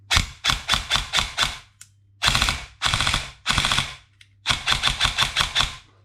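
A TM M4 airsoft gun with an NGRS recoil gearbox and a 7.4 volt battery fires several rapid full-auto bursts, crisp mechanical clacking close by with short pauses and single shots between.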